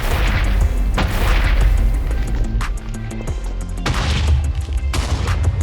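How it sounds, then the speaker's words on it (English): Cannon fire from a ship-mounted cannon in the Minecraft Whaleborne mod, a dense run of loud booming shots and blasts overlapping one another with brief gaps, close and forceful throughout. "The cannon can fire pretty much anything you can imagine."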